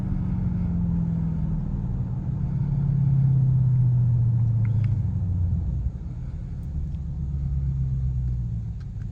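A 2024 Ford F-150 Raptor R rumbles deeply from inside the cab while driving, its exhaust note swelling and easing through gentle throttle changes, with faint clicks in the cabin.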